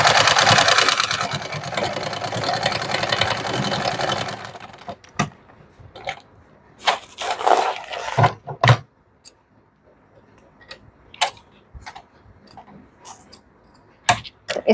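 A sewing machine stitches a princess-cut blouse cup in a rapid, whirring burst for several seconds, followed by scattered clicks and knocks of fabric handling.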